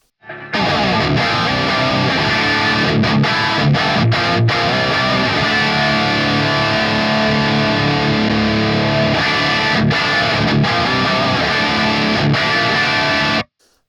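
A distorted electric guitar plays through an EL84 valve amp and a miked cabinet, producing dense, crunchy chords that ring continuously and loud for about thirteen seconds, with a few brief gaps between strums and no talking.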